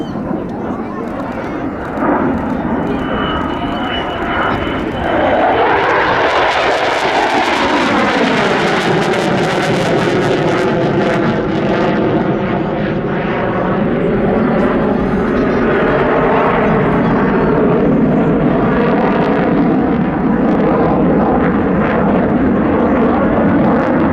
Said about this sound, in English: Now watch as McClellan is set up for what we would call otherwise a 10-degree strafe attack